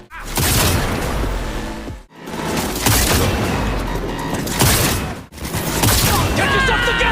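Dense bursts of gunfire in Cyberpunk 2077, loud rapid volleys of shots with booming impacts, broken by two brief pauses, with shouting voices mixed into the combat.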